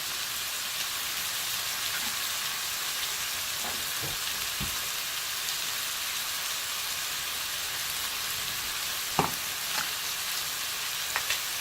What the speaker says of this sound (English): Now I'm going to add a can of diced tomatoes that I've drained to the best of my ability.